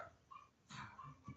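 A dog barks a few short, fairly faint times somewhere in the background of an indoor room, with quiet gaps between the yaps.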